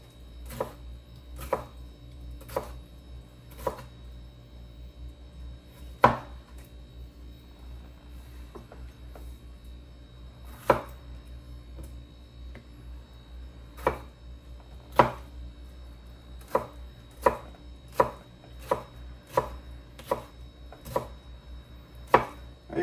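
Tomatoes chopped on a board for okra stew, about twenty sharp knife strikes landing in a loose, irregular rhythm with brief pauses, close and clear over a quiet background.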